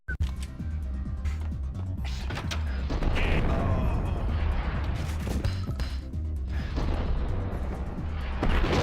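A long, rumbling explosion in the video game Max Payne, with crashing debris and mechanical clatter, rolls on for several seconds, loud and sustained.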